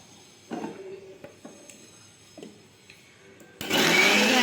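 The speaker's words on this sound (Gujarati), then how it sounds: "હવે એક આપણે મિક્સરમાં હવે ક્રશ કરી નાખશું" A mixer grinder crushes boiled tomato, garlic and red chili for Schezwan chutney. It starts abruptly near the end as a loud, steady whir after a stretch of quiet kitchen clatter.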